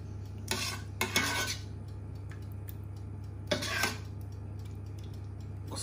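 A spoon spreading tomato sauce across a pan for stuffed peppers, heard as a few short scraping bursts over a low, steady hum, with long quiet gaps between strokes.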